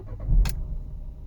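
A 2019 Dacia Logan MCV Stepway with the 1.5 Blue dCi diesel engine starting, a short crank and burst of mid-range noise, then settling quickly into a low, steady idle rumble close by.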